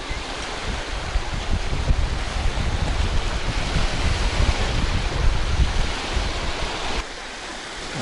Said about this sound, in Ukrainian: Да, вітер чималенький.